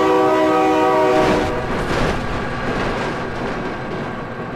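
A train in BeamNG Drive blasts a loud sustained horn that cuts off after about a second, giving way to a heavy rolling rumble of rail wheels that fades slightly.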